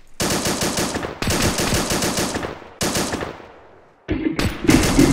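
Machine gun fire in ArmA 2 with the I44 mod: three long, loud, close bursts of rapid automatic shots, each trailing off, then a brief pause and another burst.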